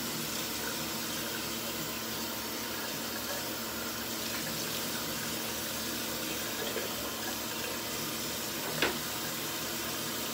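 Tap water runs steadily and softly into a sink while a freshly shaved face is rinsed, a continuous gentle wash of sound with one small knock near the end.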